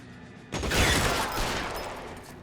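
Tommy gun bursting in L.A. Noire, a sudden loud rattling spray of gunfire that starts abruptly and trails off over a couple of seconds, heard alone.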